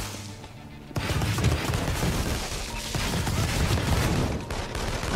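Cinder missile fired in inFAMOUS Second Son: after a second of low ambience a loud, sustained burst of fiery, crackling blasts and booms rolls on through the rest of the clip, with no talking.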